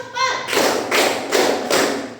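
In a classroom before a coding and artificial intelligence lesson, a voice speaks briefly, then children clap four times together in a steady, evenly spaced rhythm, loud and close, as part of a counted clapping routine.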